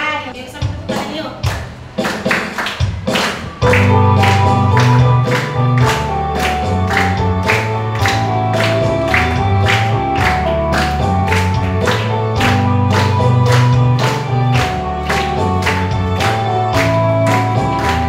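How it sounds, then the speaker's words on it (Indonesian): Children clap their hands together in a steady, regular rhythm during an Indonesian classroom lesson. Musical accompaniment and bass run underneath throughout, and the claps stay loud and close for the whole stretch. "Yuk, sama tepuk tangan yuk."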